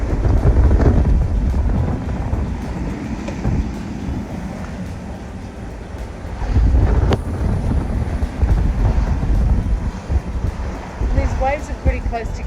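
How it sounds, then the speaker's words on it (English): Wind roars across the microphone while waves slap and rush against a sailboat at sea off Fiji, with louder surges in the middle and near the end. "Waves are pretty close together too."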